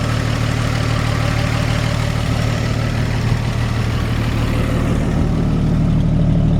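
A steady, low engine idle from a 1954 Chevrolet 3100 pickup truck with a rebuilt Rochester carburetor, rumbling continuously at close range, even and unbroken throughout.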